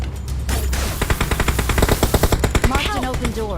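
Automatic weapon fire in the mobile shooter PUBG Mobile rattles off in a fast, loud string of close shots, followed by a few whistling ricochet-like tones near the end.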